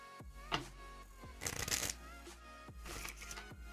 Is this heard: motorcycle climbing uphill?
no